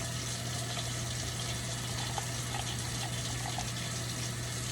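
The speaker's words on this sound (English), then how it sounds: "Warm tap water is fine." Warm tap water runs steadily from a faucet into a measuring cup, a continuous soft hiss and gurgle with a low hum underneath, even in level throughout.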